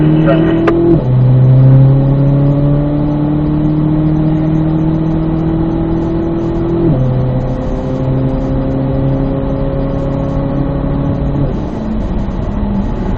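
A race car engine revs up steadily, pitch climbing in two long pulls with quick drops between gear shifts, loud and close.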